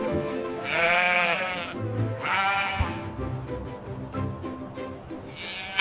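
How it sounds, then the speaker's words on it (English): A sheep bleats twice in long, wavering, nasal calls, then a softer third bleat trails in near the end, loud and close with no talking. "Sheep."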